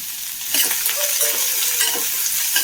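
Chopped onion, green chillies, ginger and curry leaves sizzle loudly in a pan while a spoon stirs and scrapes, close up and continuous with no talking.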